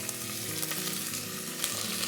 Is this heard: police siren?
no